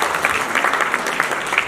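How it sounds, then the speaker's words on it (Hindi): A studio audience claps loudly, a short, even burst of applause with no speech on top. "जोरदार तालियां"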